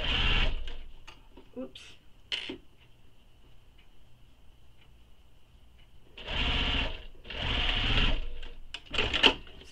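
A sewing machine top-stitches a tote bag in short clicks at first, then two longer whirring bursts near the end, close and fairly quiet, with a brief spoken exclamation.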